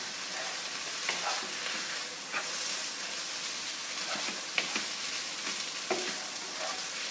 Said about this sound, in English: Now I'm going to whack in the meat-free mince. Straight in the pan, no messing about.